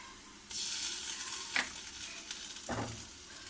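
Ginger garlic paste and turmeric hit a hot pan for an aloo paratha filling, setting off a steady sizzle. A couple of spoon-against-pan scrapes cut through the frying noise. No one speaks.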